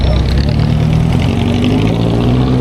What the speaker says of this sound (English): It's those old Soviet cars.